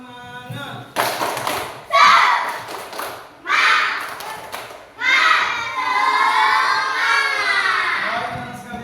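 Children in an Indonesian classroom chant and clap in unison through a Tepuk Semangat routine, several rhythmic bursts of clapping and shouting followed by a longer sustained group cheer.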